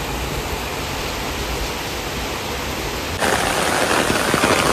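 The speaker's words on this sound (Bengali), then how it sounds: "ভালোই জোরে বৃষ্টি হচ্ছে।" Heavy rain falls outside in Bangalore, a dense, steady hiss with no voices, growing slightly louder and brighter toward the end.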